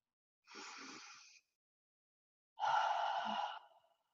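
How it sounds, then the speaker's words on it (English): Two slow, deep breaths, each a soft airy rush about a second long, separated by a quiet pause, close and fairly gentle with no talk. "Deep breath in, out. One more time."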